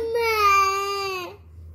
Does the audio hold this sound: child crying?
yes